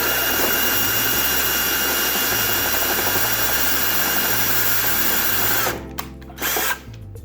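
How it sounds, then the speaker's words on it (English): A power drill boring through plexiglas for an arcade cabinet control panel, a loud steady high whine held close for several seconds, then cutting off into short stuttering bursts as the bit catches. "I think the reason that the drill is getting stuck like that, it's not a lack of power."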